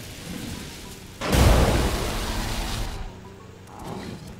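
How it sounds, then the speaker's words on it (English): A chain lightning spell in Divinity Original Sin cracks in with a sudden loud thunderous burst, then rolls on as a rain-like crackling rumble for about two seconds before fading to a softer hiss. "I could chain lightning."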